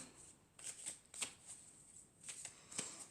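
Tarot cards are shuffled in a quiet room for a reading, with soft riffling bursts and light flicks repeating at an even rhythm, faint and close.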